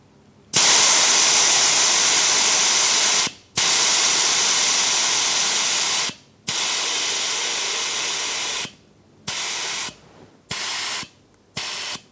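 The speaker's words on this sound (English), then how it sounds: "Now we can set the tyre pressure using the valve on the tyre pressure gauge." Sharp, loud bursts of air hiss from a go-kart tyre valve bled through a pressure gauge set to 12 psi, several long releases followed by shorter, choppier ones with brief silences between.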